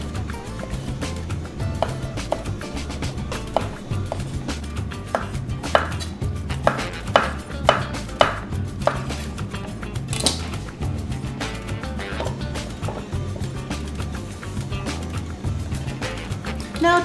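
A knife slices mushrooms, stems and then caps, on a cutting board, giving a quick run of crisp, close taps against the wood with a low background hum throughout.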